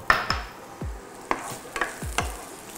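Vegetables fry in butter with salt in a pan, giving a soft sizzle under several sharp clacks of a utensil against the pan, spaced about half a second apart.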